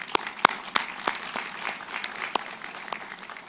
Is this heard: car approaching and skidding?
no